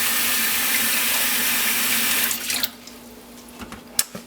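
Tap water gushes steadily into a vacuum bottle with a bright, close hiss, then cuts off, leaving a few faint drips and clinks.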